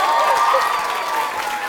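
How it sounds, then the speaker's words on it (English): Children in an awards ceremony audience cheer and applaud for a man, a dense, loud wash of clapping and shouting voices filling the space without letup. "Cheer for Mr. Walker, everyone."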